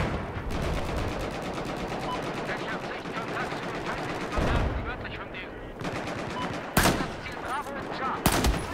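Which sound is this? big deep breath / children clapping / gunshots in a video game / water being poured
gunshots in a video game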